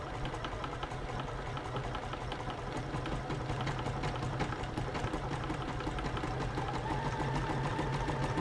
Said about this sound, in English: I step on the presser foot and it begins sewing a buttonhole.